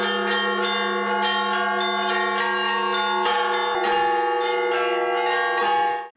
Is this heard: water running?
no